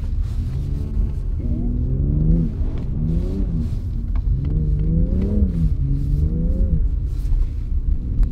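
An Audi RS6 drifts and slides across snow in Sweden, its engine rising and falling in repeated revving surges over a steady close rumble.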